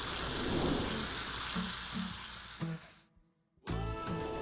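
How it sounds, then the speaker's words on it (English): A ribeye steak sears in a very hot pan at 450 degrees, loud dense sizzling that fades, cuts to near silence, then bursts back in strongly. "Let it sear on this side for another 5 minutes and then pop it in the oven."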